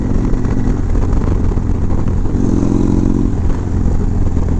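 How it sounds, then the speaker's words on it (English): A motorcycle exhaust rumbles loud and close, holding a steady idle-like drone with a brief rise in pitch midway, and no voices are heard. "tell me what you think about the exhaust in the comments"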